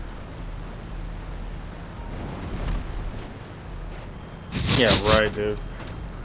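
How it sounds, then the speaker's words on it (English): A loud blast erupts near the end of a chaotic multiplayer shooter match, a dense burst with crackling debris that tails off quickly, following a steady vehicle drone and brief exchanges of voices. "Fucking blew myself up."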